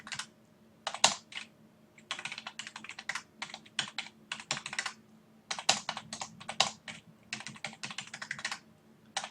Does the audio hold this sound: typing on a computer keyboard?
yes